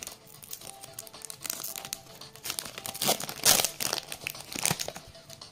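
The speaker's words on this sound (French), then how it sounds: "Ah, voilà, les ciseaux remarchent." Close-up crinkling and tearing of a thin plastic Pokémon card pack wrapper cut with scissors, with sharp crackly snips and rustles building in bursts, loudest near the middle.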